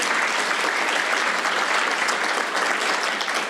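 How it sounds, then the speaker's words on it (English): A keynote audience breaks into steady, sustained applause, a dense even roar of many hands clapping at constant loudness throughout. "Let's give the traditional generation a round of applause."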